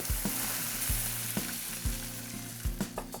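Loud, steady sizzling and bubbling of red wine in a hot pan, cooking off the alcohol, with occasional sharp pops and spatter rising above the frying hiss.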